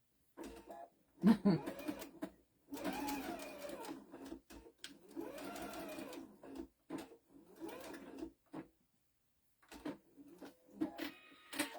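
Domestic sewing machine fitted with a walking foot, sewing a pin cushion out to the fabric edge in several short, fairly quiet runs separated by pauses and light handling noises.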